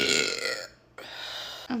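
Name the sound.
burp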